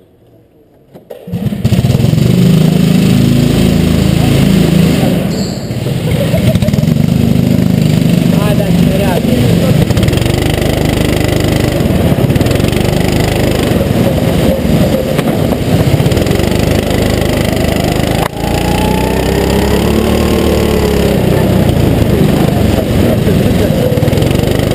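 A motorcycle engine starts and then runs steadily and loudly close by before a race, its rumbling, slightly fluctuating drone continuing throughout.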